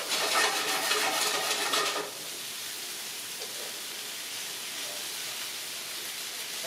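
Broccoli drops into a hot pan being prepared for a quick chicken curry with peanut green beans, setting off a loud, dense hiss for about two seconds that then settles into a steady, quieter sizzle.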